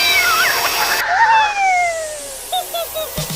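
Several short cat meows from a film comedy-horror scene, rising and falling calls spread through the clip over a soft musical background, with a mild speech-like layer mixed in.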